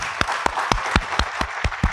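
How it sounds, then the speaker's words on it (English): A panel-discussion audience gives a short round of applause: about eight or nine distinct, fairly evenly spaced claps ring out over two seconds, sparse rather than a thick crowd roar. "A brief round of applause."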